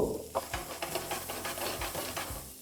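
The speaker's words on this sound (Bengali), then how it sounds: "তারপর ফ্লেমটাকে হাই রেখে এটাকে ভালো করে মিশিয়ে নেব।" Chopped onions stirred in a pan over high flame, a steady loud sizzle with repeated scraping strokes of the spoon in a regular rhythm, close by and without talk.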